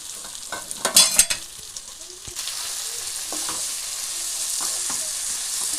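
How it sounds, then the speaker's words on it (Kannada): Bitter gourd frying in a pan with sambar powder and chilli powder, a few sharp spoon clatters and stirs at first, then an even, continuous close sizzle with no one speaking. "ಈಗೆಲ್ಲ ಚೆನ್ನಾಗೆಲ್ಲ ಫ್ರೈ ಮಾಡ್ಕೊಂಡು ಎಲ್ಲ ಮಿಕ್ಸ್ ಮಾಡ್ಕೊಳ್ಳೋಣ"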